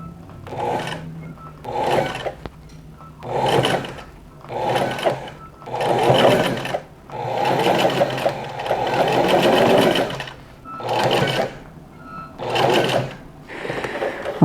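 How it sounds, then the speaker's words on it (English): A sewing machine stitches a shirt collar made from a bed sheet, running in repeated bursts of steady mechanical whirring about a second long with short pauses between, near and clear with no talk. "I sew on just the one side."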